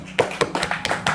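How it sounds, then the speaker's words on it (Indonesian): A small audience claps in a short, uneven burst of hand claps, close and moderately loud, with no talking over it. "mari kita tepuk tangan untuk kita semua."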